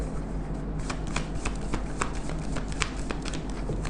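Tarot cards are shuffled and handled in a steady, rapid flurry of papery riffles and flicks, close and fairly loud, with no talking.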